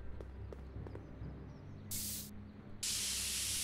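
Spray can hissing in a Back to the Future video game, two sharp bursts, the second longer and continuing, over quiet game ambience with a few soft clicks before.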